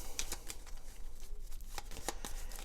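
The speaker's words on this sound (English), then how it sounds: "we're going to go ahead and shuffle them up" Starting cards for the Dune: Imperium board game being shuffled by hand, a run of crisp papery riffles and taps repeating close up for nearly three seconds with no voices.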